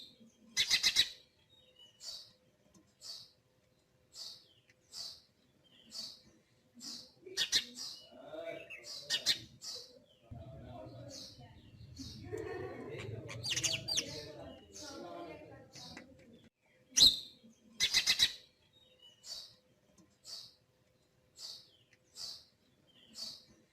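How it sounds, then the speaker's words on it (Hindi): A small bird pecks at grains, giving a steady series of short, regular chirps and clicks over several seconds, with some coo-like bird sounds and a low rumble in the middle. "देखो किस प्रकार चिड़िया अपनी चोंच का प्रयोग कर कर दाने चुग रही"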